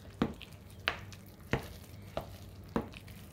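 A spoon is stirring milk into shepherd's pie mash, making five soft, evenly spaced scraping knocks against the bowl. They sound close and quiet, with no talking.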